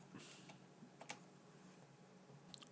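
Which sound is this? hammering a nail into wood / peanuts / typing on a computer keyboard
typing on a computer keyboard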